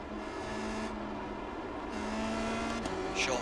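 A Formula Sprint race car engine at Suzuka in iRacing drones steadily at high revs, then eases slightly as the throttle lifts near the end, loud and close with no talk.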